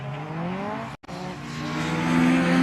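A V6-engined Ford Sierra race car at Anglesey circuit, its engine note droning steadily and rising as it passes, with a brief drop-out in the middle.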